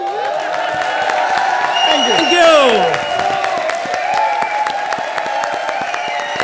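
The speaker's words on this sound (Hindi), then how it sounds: "जोरदार तालियां" A live studio audience at a Comedy Circus Ke Taansen comedy show applauds steadily and loudly throughout, with whistling or whooping over the clapping and a brief thank-you spoken over it.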